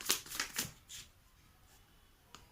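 A tarot deck being shuffled by hand: three quick riffling bursts close up, then a fainter flick and a final light tap.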